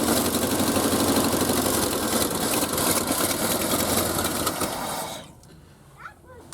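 Ford F-350 engine running after sitting for years, a steady, loud idle with a rough, uneven rumble close by that cuts off abruptly near the end, leaving quiet background.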